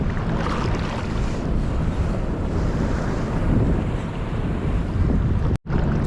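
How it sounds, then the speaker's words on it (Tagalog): Steady wash of ocean surf at low tide on a Philippine fishing shore, continuous and loud with wind buffeting the microphone, briefly cutting out near the end. "tumataas na naman yung alon na pa-low tide."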